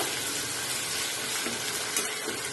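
Green chillies sizzle and fry in a hot pan while a set dosa gravy is being prepared, a close, steady crackling hiss with light stirring and no voices.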